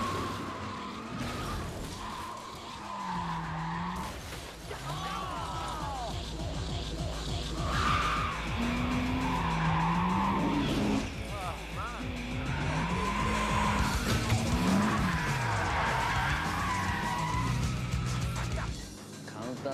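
A car drifts with squealing, skidding tires and revving engine over a steady mechanical drone, continuous and fairly loud, while people talk throughout.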